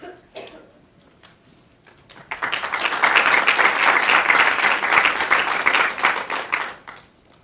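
Audience applause welcoming the second speaker at a community engagement talk event: a few scattered claps, then a full, steady round of clapping from a room crowd that swells for about four seconds before fading out.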